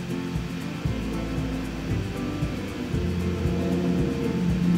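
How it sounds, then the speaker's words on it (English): Cars passing steadily in the background near a beach, a continuous low road rumble with occasional swells as vehicles go by, fairly loud and unbroken, no voices. "excuse all the cars in the background"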